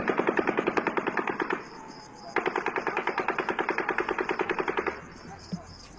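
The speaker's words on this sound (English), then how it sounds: "Take a listen to this gunfire again." A recording of rapid automatic gunfire plays back in two long, evenly spaced bursts separated by a short pause, each shot crisp and regular.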